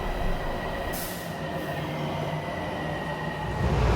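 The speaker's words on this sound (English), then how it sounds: "We're on Metro Rail here" A Miami Metrorail train rumbles steadily, heard from inside the car, with low wheel and track noise and a brief hiss midway; the run is continuous and moderately loud, with no talking.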